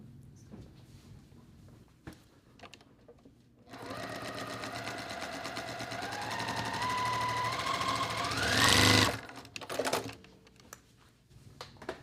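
A sewing machine stitches quilt block seams in a steady, close run of rapid needle strokes, starting after a few seconds of handling noise and surging faster near the end before stopping.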